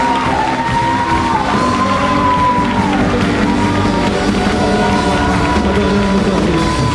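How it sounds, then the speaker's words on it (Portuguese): A worshipping congregation claps and cheers loudly and continuously, with whoops and raised voices over a thick crowd roar and some sung or tonal sound underneath. "aplauda ao Senhor bem forte"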